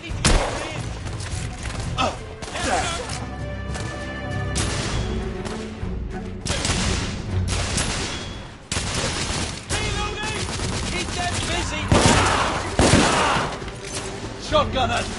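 Shotgun blasts and rapid gunfire crack through a firefight in The Order: 1886, loud and close in repeated bursts, with shouted voices mixed in among the shots.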